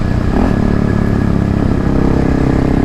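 Kawasaki KLX351 dual-sport motorcycle pulling hard out of a corner on twisty roads, its engine loud and close with a continuous rasping drone under throttle.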